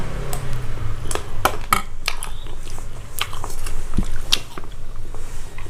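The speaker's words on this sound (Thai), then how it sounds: "หมูกรอบ กรอบมากเลย" Crispy pork belly crunched in close bites, a run of sharp crackly transients with faint dish clinks in a home kitchen setting, no talking over it.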